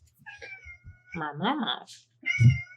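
A cat meowing indoors, several short close meows in quick succession with a drawn-out cry, while a person speaks softly nearby.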